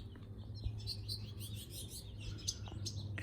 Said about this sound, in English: Look, there's a little golden finch.